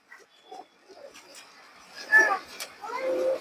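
Domestic ring-eyed pigeons give soft, low, intermittent coos at close range, mingled with a voice talking over them.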